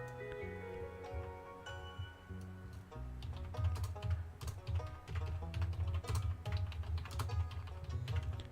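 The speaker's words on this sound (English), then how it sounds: "My biggest issue with typing, and you can probably notice it if you listen for it" Someone types on a computer keyboard nearby during a Stardew Valley gaming session, sending a quick, uneven run of soft key clicks and clacks that keeps going without talk.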